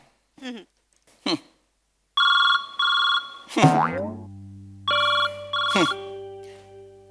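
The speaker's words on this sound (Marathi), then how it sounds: "माझ्या नवऱ्याचा फोन येतोय" A ringtone-style melody of bright electronic tones plays in short bursts, mixed with a springy boing and a sliding synthetic sound effect.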